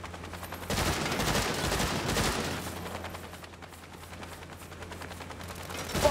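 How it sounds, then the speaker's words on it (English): Bursts of video game gunfire from Saints Row, dense rapid shots in a loud stretch early on, then continuing at a lower level with a steady hum beneath. "He's popping shots."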